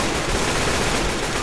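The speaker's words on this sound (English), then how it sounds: "Why in the hell you guys keep shooting me?" Sustained gunfire in the zombie shooter Left 4 Dead 2 during a Versus match on the Dead Center campaign, a dense continuous rattle of rapid shots with no clear gaps, loud and close throughout.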